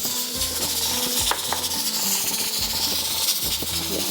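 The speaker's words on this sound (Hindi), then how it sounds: "साथ साथ में चिकन हमारा ये फ्राई होता रहेगा" Small chicken pieces fry over high heat in a hot pan for mutton rosh, giving a steady loud sizzle and hiss with occasional utensil clinks and no speech.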